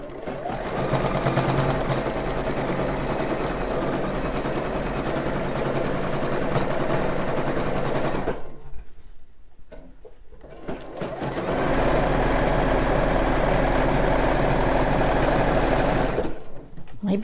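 Sewing machine stitching stretched elastic on a bra, a steady close mechanical whir that runs for several seconds, pauses briefly, then resumes at a brisk even pace.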